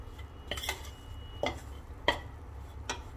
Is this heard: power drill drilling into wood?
no